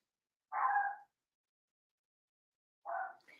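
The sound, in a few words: dogs barking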